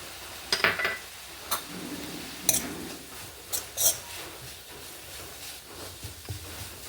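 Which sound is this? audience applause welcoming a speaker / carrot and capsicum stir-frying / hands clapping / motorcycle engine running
carrot and capsicum stir-frying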